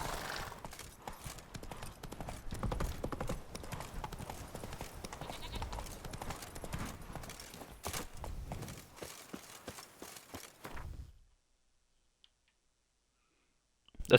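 Horse hooves clip-clopping at a gallop in The Witcher 3, a steady, close rhythmic beat with game sounds that runs about eleven seconds and then stops dead into silence.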